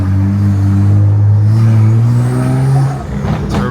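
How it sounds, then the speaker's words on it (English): A BMW 335i turbocharged engine revs hard with a loud, sustained droning pull, then drops off into a rougher, sputtering tone as the throttle eases. "turbo noises get me every time, son"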